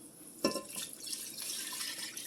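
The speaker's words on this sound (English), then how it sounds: "about a cup of water to start." Water poured into a pot while making French onion soup with caramelized onions and a bouillon cube, a faint splash and trickle that settles into a quiet, steady pour.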